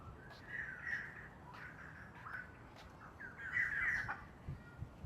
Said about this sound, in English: I hear some birds chirping.